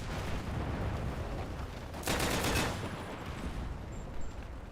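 A .50 cal machine gun fires in a video game, heard as a steady wash of distant rattling fire with one louder, nearer burst in the middle.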